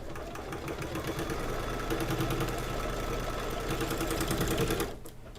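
An embroidery machine stitching a 3D bow quilt block whirs in a rapid, steady mechanical rhythm, close and constant, then stops abruptly near the end.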